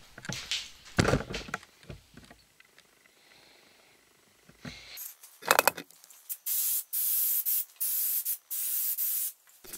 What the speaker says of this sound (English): you use super glue on the painter's tape on one side and then activator on the other